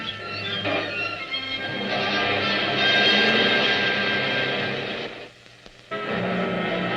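Army L-23 twin-engine airplane flying past, a steady loud engine drone that swells in the middle, dips briefly near the end and then returns, with no voices.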